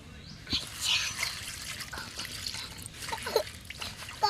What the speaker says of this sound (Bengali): এখন পাতাগুলি ভালো করে ধুয়ে নিই